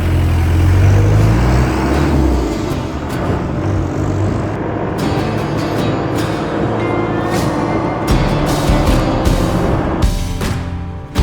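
A 1992 Land Rover Defender 110 turbo diesel pulls away in a park, its engine a loud, steady low rumble that holds throughout with a slight rise, no voices over it.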